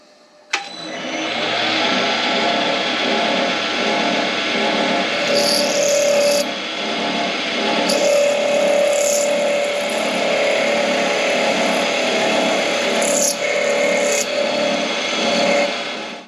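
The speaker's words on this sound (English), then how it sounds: "drill it outside if you can to avoid punching holes in your radiator" A power drill bores steadily into a fan part on a car, a loud, continuous whirring grind close to the microphone with brief higher-pitched squeals as the bit bites.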